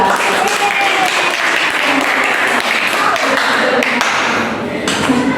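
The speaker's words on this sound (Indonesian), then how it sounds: "tepuk tangan dulu untuk kelompok 2" A classroom of students claps for a presenting group, fairly loud and steady clapping with some sharper taps and chatter-like voices mixed underneath.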